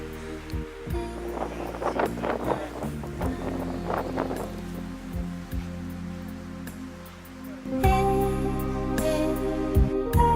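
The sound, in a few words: strong wind at Angel's Landing, Zion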